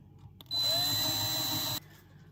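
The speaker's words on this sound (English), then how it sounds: "And then drill yourself a hole." A power drill whirs steadily at high speed for just over a second, starting and stopping abruptly in a quiet room.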